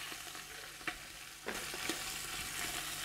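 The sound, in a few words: kid goat meat searing in a pot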